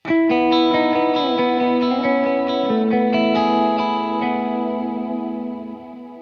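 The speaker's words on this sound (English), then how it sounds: "Here's my stereo reverb." Electric guitar chords ring out through a wide stereo reverb from a Goodwood Audio Long Line, notes sustaining and blooming into a lush wash that slowly fades at the end.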